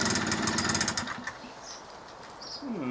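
A two-stroke generator engine, test-run after two years unused, chugs unevenly for about a second and then dies away, leaving a quiet fading rumble.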